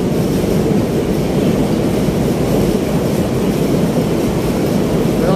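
A Manila LRT Line 1 light rail train rumbles past close by, a loud continuous roar of wheels and motor with no one speaking.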